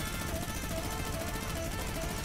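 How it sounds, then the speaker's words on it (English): The new minigun in a video game fires as a fast, continuous mechanical rattle of rapid shots, fairly quiet and steady throughout the short burst. "And lastly, the audio for the minigun has been changed."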